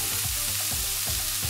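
Onions frying in a hot pan for a Mexican bean skillet: a steady, close sizzle with soft rhythmic scraping from stirring, no talking.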